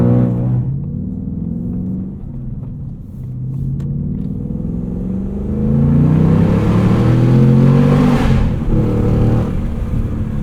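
A 2022 Ford Mustang Mach 1 with manual gearbox and handling package, heard from inside while driving: a deep engine and exhaust rumble that builds into a louder revving surge near the end, with no talk.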